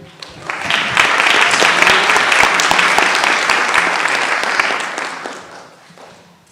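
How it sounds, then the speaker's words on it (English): An audience at a Teacher of the Year ceremony breaks into loud sustained applause for an elementary teacher, building quickly, holding steady, then tapering off toward the end. "Let's give a round of applause for District 3 Teacher of the Year, Elementary Teacher of the Year, Deborah Stringfellow"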